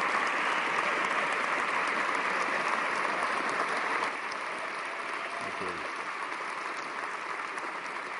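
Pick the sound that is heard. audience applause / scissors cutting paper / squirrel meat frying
audience applause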